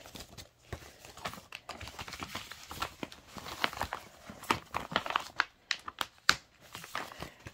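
A cross stitch kit is slid back into its paper envelope, giving close, continuous crinkling and rustling of paper with sharp scratchy crackles, and no talking.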